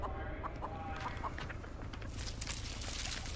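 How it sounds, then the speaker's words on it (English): Chicken clucking in the Texas Chain Saw Massacre video game, a run of short evenly spaced clucks over a dull low background, followed by a brighter rustling burst near the end. "Shut up, bird."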